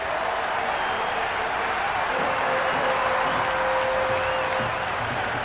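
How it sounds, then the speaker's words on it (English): A stadium crowd in the Cricket 26 video game roars and applauds in a continuous dense wash of cheering after a catch, loud and unbroken throughout. "Will you listen to that crowd? They are loving this."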